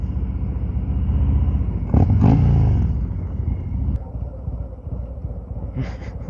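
A Harley-Davidson Road King Special motorcycle rumbles steadily while being ridden, a loud low engine drone that surges briefly, with wind buffeting and someone talking over it.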